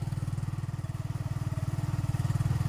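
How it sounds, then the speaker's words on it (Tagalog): A motorcycle engine idles close by on a rural farm track, a steady low throb of rapid, even pulses that stays constant throughout. "At least nakarating yung motor dito, no?"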